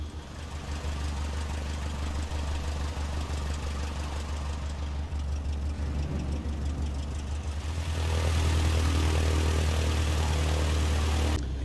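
A propeller aircraft engine starts and runs in Microsoft Flight Simulator, a steady droning rumble that jumps to a louder, fuller roar partway through as the revs climb, continuous and close with no speech.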